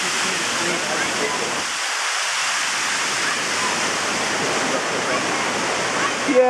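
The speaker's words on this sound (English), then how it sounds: "Yes, it's a really, really tall waterfall. The water is low right now" A very tall waterfall at Stewart Falls, running low, makes a steady, loud, broadband rush of falling water that continues unbroken throughout.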